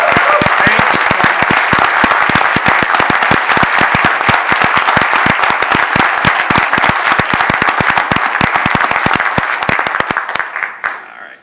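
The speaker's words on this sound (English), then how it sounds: "So let's have our honorees stand up one last time and get a big round of applause for everyone." A large crowd at an awards ceremony gives honorees a big round of applause, sharp, loud, rapid clapping that stays dense throughout before tapering off in the final second or two.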